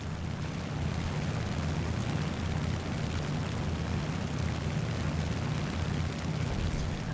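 A Mitsubishi A6M2 Zero fighter in the War Thunder combat game, heard as a steady, dense engine drone and rushing roar that holds at constant loudness throughout, with no talking.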